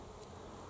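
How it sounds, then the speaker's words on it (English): A bee hums faintly among capsicum star flowers on a plant outdoors, a brief steady drone under a low, even background. "Hope I don't get stung by a bee."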